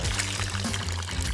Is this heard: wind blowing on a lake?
no